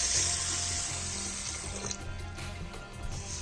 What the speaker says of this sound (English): So now what we'll do is we will wash it properly.